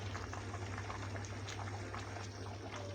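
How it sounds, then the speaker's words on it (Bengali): A pot of khichuri bubbles at a rolling boil, a steady close wet burble with small pops over a low constant hum. "এই যে খিচুড়িতে বলক এসে গেছে।"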